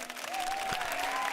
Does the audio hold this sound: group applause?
yes